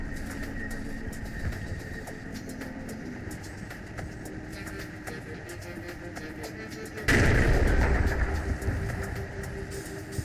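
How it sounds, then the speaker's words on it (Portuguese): Machine-gun fire from a firing unit in a WWII war game set in the Troina campaign: a steady, dense roar of battle noise gives way to a sudden, much louder burst of close gunfire that carries on to the end. "Esta mesma unidade é vítima de um disparo vindo da direção da floresta."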